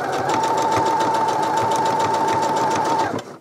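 A sewing machine stitches chenille fabric in a steady, fast whirring run with a constant mechanical hum, then stops at the end; no one speaks.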